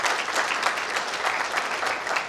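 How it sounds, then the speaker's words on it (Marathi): An audience at the launch of a Marathi novel claps loudly and steadily, a dense, even burst of applause from a seated crowd that holds throughout. "जरा एकदा त्या सगळ्या परिवारांचा आपण जोरदार टाळ्या वाजवूया"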